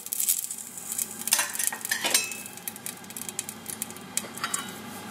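Garlic and ginger hit hot oil in a pan while cooking Chinese mushroom chicken, giving a light crackling sizzle broken by spatula scrapes and clinks against the pan, close and moderately loud.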